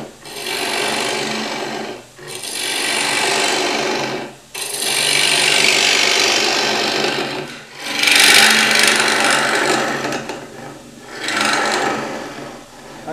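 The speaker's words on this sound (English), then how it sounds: "I can get stuck into that nice and quickly with a bowl gouge" A bowl gouge cuts radiata pine with resin on a wood lathe, giving a loud close scraping rasp in long sustained passes broken by short pauses between cuts.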